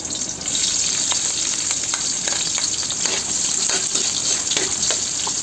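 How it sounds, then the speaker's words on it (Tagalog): Onions sizzling in hot cooking oil in a pan, a loud steady crackling hiss with scattered pops and stirring scrapes, continuous throughout with no voices. "Ito, ilalagay na natin ng mantika. Mainit na siya. Lalagay na natin yung ating sibuyas."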